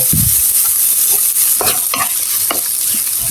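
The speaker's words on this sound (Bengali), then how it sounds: "আমি এখন এই তেলের মধ্যে দিয়ে দিব পেঁয়াজ" Onions sizzle and crackle steadily in hot oil in a pan for an eggplant fry, with a few scraping stirs from a utensil cutting through the constant hiss.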